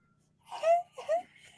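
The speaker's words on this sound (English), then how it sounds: "And our cat is like freaking out." A distressed cat freaking out gives two close, whiny meows in quick succession, the first longer and the second shorter, in an otherwise quiet room.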